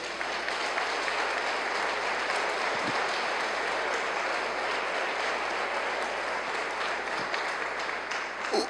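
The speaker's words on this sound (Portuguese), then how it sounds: "Você pode aplaudir o Senhor pela sua vida?" Continuous congregation clapping fills a church service, an even, full-room patter of many hands that stays level for the whole span without fading, with no talk over it.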